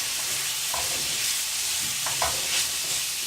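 Choko frying in a pan gives a steady, dense sizzle close by, with a couple of soft stirring scrapes over the continuous hiss and no one talking.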